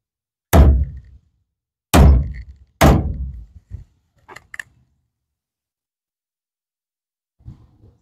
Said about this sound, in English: come down here and bang on your fuel tank